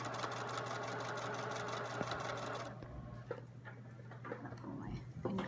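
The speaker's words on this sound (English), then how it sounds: "we're gonna go a few stitches, back stitch, and I'm pulling my pins out as I go along" Sewing machine running a pillowcase seam with a 5/8-inch allowance, a steady rapid stitching rhythm for about half the time, then short bursts and stops as the stitch is reversed and pins are pulled.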